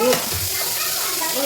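Onions frying in a pan for soya-chunk biryani, a brief burst of close hissing sizzle with a faint stir at the start.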